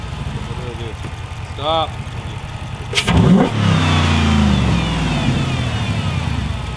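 A 2005 Chrysler 300C with the 5.7 Hemi V8, fresh from a spark plug change, cranks briefly and fires up with a surge, then settles into a steady, rumbling idle close by; a person says one short word early on.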